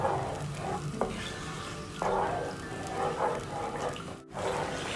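Chili garlic chicken sauce being stirred in a pan, a steady sizzle with scraping and stirring strokes throughout, close and fairly loud, with a brief drop near the end.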